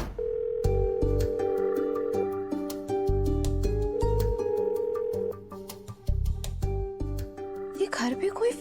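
A telephone call goes unanswered in a family home: repeated ringback tones pulse in an even rhythm, fairly close and clear, with a brief burst of other noise at the end.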